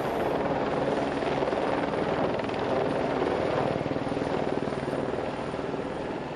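Two rescue helicopters working a high-rise evacuation drill in Minsk, a steady loud rotor thump and engine whine held close and continuous, with no voices.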